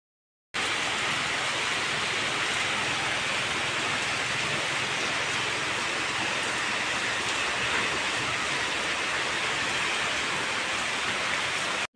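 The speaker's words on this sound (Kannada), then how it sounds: "ಎಷ್ಟು ಜೋರು ಮಳೆ" Heavy rain falls in a steady, dense hiss that starts abruptly and holds unbroken and loud for the rest of the stretch, with no voices.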